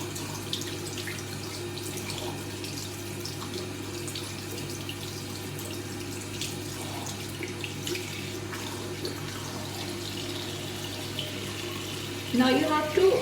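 Tap water runs steadily while makeup brushes are washed by hand in a sink at home, a continuous broadband splash with a louder burst of sloshing near the end.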